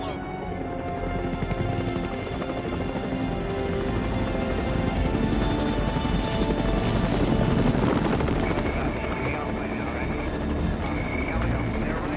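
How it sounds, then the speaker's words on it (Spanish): Helicopter engines and rotors hum loudly and steadily over a snowy mountain valley, a continuous droning throb that grows slightly stronger toward the middle and carries no voices. "Escuché el zumbido de los motores del helicóptero"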